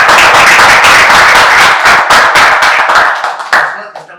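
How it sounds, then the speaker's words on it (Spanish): An audience claps loudly and steadily in a dense burst of applause that thins into scattered claps and fades out near the end, with no talk over it. "Bienvenido. Un aplauso."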